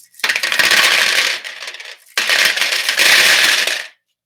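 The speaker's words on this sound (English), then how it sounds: "So then what we're going to do is we're going to add our rocks." Small white, green and blue decorative stones pour into a bowl in two long rattling, clattering bursts, loud and close, each tumbling for about two seconds before trailing off; no voices.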